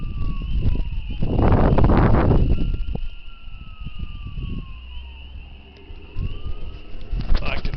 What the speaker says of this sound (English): I can tell from the siren that's the fireman here